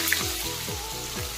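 Finely chopped onion frying in a hot oil tempering of garlic, curry leaves and green chilli, giving a soft, steady sizzle with faint stirring, close and quiet, no voices.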